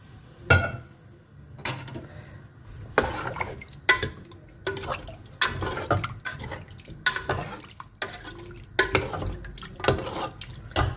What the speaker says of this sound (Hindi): ये मैं इसके अंदर अब पानी ऐड कर रही हूँ